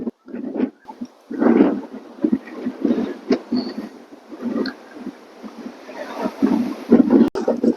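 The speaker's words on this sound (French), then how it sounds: "Il y a un vent qui vient de se lever là." Gusty wind buffets the microphone in loud, uneven bursts that rise and fall continuously.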